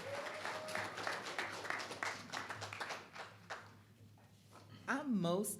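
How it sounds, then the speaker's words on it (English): Scattered audience applause at a political town hall in Fayetteville, North Carolina, moderate clapping that tapers off before a speaker's voice returns; recorded faintly with room hum beneath. "Give a little round of applause."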